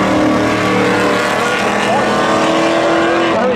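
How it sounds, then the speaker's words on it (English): Cars drag racing side by side at Seekonk Speedway, a loud continuous roar of racing engines close by with shifting pitch, an announcer talking over the noise. "They drag race up before dead even."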